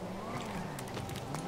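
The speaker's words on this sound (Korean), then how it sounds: "차 소리가 거칠어." A rough, gritty car engine in Grand Theft Auto V drones on steadily and fairly close, its low rumble continuous across a dense, noisy game mix.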